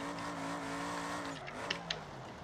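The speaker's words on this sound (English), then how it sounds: "beautiful handbrake entry" A car's engine revs in BeamNG.drive as it enters a handbrake drift, a steady tonal drone that then drops away into short tire squeals near the end, with no talk.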